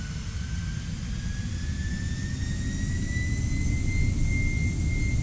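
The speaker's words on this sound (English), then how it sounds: "Engines are running stable." Boeing 747-400 jet engines at takeoff thrust in X-Plane 11 give a loud, steady roar with a high whine that rises slowly in pitch and swells toward the end, with no talking.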